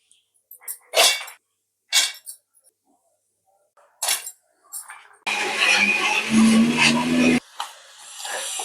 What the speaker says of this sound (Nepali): अब मिक्सरमा पिसौँ है त।